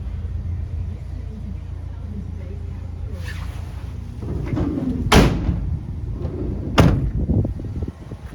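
Rear doors of a Vauxhall Vivaro 1.6 CDTi crew van are opened, giving a metallic latch clunk and rattling swing with two sharp knocks over a low rumble of background noise.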